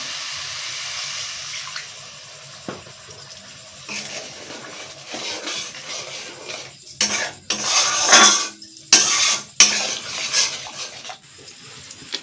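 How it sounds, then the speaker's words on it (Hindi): Water is poured into a pan while chilli potala, a spicy pointed gourd dish in Odia style, cooks. Splashing bursts build near the end over clinking of cookware, close and fairly loud, with no talking. "चलंतु एबे टिके पानी दे दबा।"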